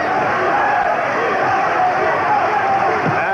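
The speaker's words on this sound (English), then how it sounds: "And the crowd rooting for the champion," Boxing arena crowd roaring for champion Julio Cesar Chavez during a WBC title fight against Rocky Lockridge, a dense, steady wall of cheering and yelling at high volume, broad and continuous throughout with no pause.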